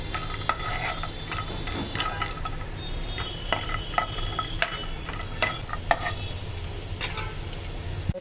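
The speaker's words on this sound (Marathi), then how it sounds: "आता आपण हे काजू आणि बदाम तळून घेऊया।" Cashews frying in ghee in a pan, with a soft continuous sizzle and scattered light clicks and scrapes of stirring, close and fairly quiet, no talking.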